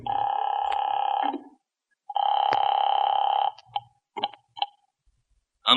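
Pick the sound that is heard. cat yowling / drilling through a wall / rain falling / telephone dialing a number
telephone dialing a number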